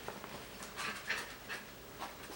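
A small white Coton de Tulear puppy pants in quick, breathy bursts close by, a handful of soft rhythmic huffs over a couple of seconds with no talking.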